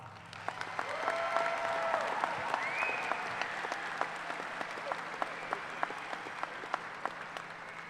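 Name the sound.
applause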